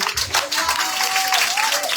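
Scattered audience clapping at a maternal ward dedication event, fairly faint and brief, with a voice and a tonal sound partly over it.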